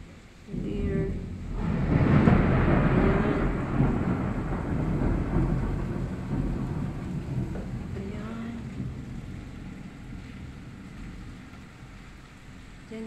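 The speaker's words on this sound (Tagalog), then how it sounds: "may kulog, may lightning" Thunder during a storm in Hong Kong: a low, rolling rumble swells early and fades slowly, with rain hissing underneath and faint voices in the background.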